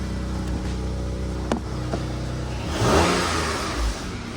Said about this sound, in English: we can definitely hear a little bit of an exhaust leak